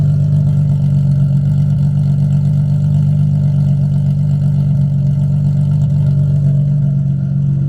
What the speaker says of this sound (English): I'm gonna let it warm up and give it some revs and see what she does